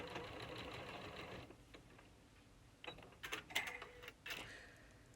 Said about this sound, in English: Reverse stitching to finish.